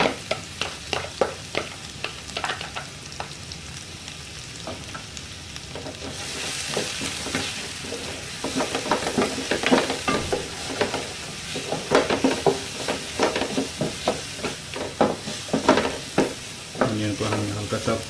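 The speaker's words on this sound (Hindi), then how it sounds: "ऑनियन को हमें हल्का सा फ्राई करना होगा, ब्राउन होने तक।" Chopped onion frying lightly in an oiled pan for an Indo-Chinese veg ball dish, a steady sizzle broken by repeated scraping stirs and utensil knocks, growing louder and busier midway.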